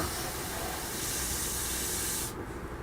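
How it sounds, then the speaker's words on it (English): A continuous close hiss of an aerosol can spraying primer onto a 1/48 scale Hasegawa F-22 Raptor model kit, steady and loud, cutting off near the end. "you can just spray the primer back over it"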